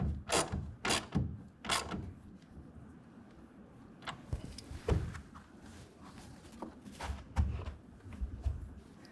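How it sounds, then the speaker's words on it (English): Ratchet tightening the front clamp of a RealTruck UnderCover Armor Flex hard folding tonneau cover, with quiet clicking strokes and metallic taps in short uneven runs, close by and soft, and no talking. "with a 1/2 inch wrench or ratchet, bring it down to 10 foot-pounds"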